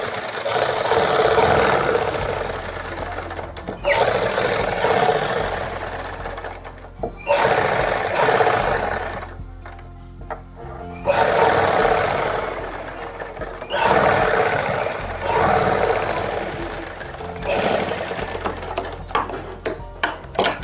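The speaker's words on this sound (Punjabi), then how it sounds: "ਹੁਣ ਆਪਾਂ ਲੱਗੇ ਆ ਜੀ ਨਾਲ ਨਾਲ ਸਲਾਈ ਲਾਉਣ" A sewing machine stitches along the neckline of a suit in several bursts of rapid mechanical whirring, loud and close, with short pauses between runs of stitching.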